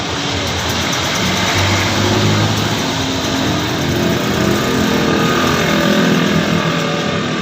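A hair clipper fitted with a round, all-metal motor runs steadily after a switch replacement. It makes a loud, continuous, even buzz with no pauses and no talking.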